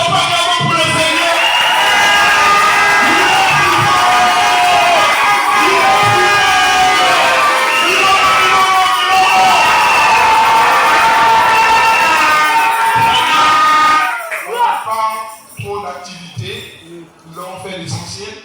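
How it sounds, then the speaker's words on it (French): A church congregation cheers, whoops and acclaims the Lord in a loud, sustained crowd roar that fills the room for about fourteen seconds, then breaks off into scattered shouts and quieter noise. "Est-ce qu'on peut acclamer pour le Seigneur?"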